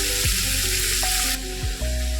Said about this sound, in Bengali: তারপরে একটুখানি তেলে নাড়িয়ে চাড়িয়ে নেব